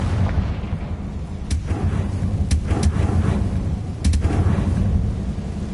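A Confringo fire spell goes off in Hogwarts Legacy, giving a deep booming blast over a rumbling, thunder-like background, with a few sharp cracks spread across the few seconds.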